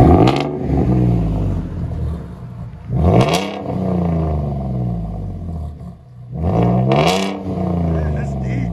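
2016 Ford F-150 V6 with a Flowmaster Outlaw exhaust, 5-inch tip and straight pipe, idling with a deep burble and then blipped twice into loud, rising revs that drop back.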